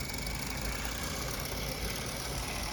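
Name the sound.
donated model train locomotive motor running on layout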